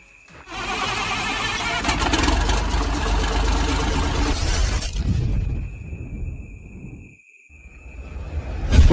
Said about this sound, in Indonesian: start dulu mesinnya guys.